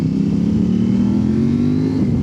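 A 2025 Kove 800X Pro motorcycle engine pulls hard on a test ride, its steady, loud drone rising slightly in pitch as it accelerates, heard close with no talking.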